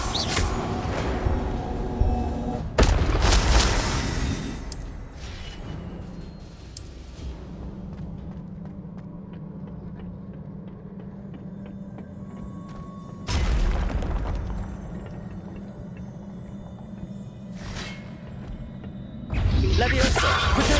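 Incendio fire spell blasts in a wizarding video game: loud broadband bursts near the start, midway and at the end, over a steady low game hum.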